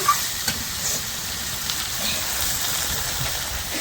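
Chicken meat frying in a pan gives a dense, continuous sizzle close by. Faint scrapes and thumps from stirring are mixed in, with no talking.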